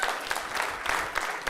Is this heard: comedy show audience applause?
yes